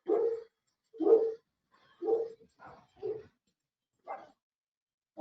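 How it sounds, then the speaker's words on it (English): Several dogs barking in a house, about seven separate woofs in an irregular rhythm with short gaps, clear and moderately close, no talk over them. "Can you hear my dogs?"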